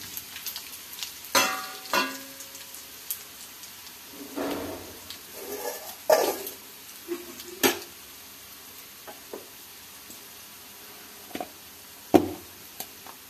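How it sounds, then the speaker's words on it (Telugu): Dried red chillies sizzle in a pan, with intermittent scraping strokes from a spoon stirring them. The stirring comes in separate bursts over a soft, steady frying hiss. "ఎర్రమిరపకాయలు వేసుకోవాలి."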